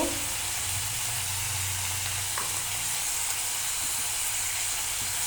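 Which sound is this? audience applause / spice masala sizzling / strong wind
spice masala sizzling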